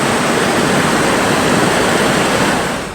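Floodwater rushing through a flooded town in Gujarat, India, a loud, steady broadband roar of churning water that holds constant for the whole stretch with no voices.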